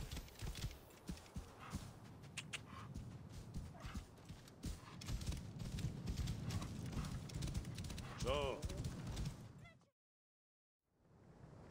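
Horse hooves clip-clop steadily in the video game Assassin's Creed Origins, a continuous rhythmic patter under game music and voices, cutting off abruptly near the end.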